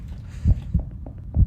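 A heartbeat throbs in the horror video game Enigma: An Illusion Named Family, giving low, muffled thumps in uneven pairs over a faint background hum, with no talking.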